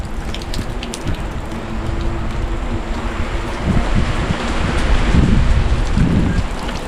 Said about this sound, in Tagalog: Bad timing tong ulan na to ah.